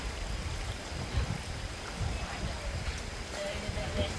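A mountain stream flows steadily in a continuous, fairly soft wash of rushing water outdoors, with no clear voices over it.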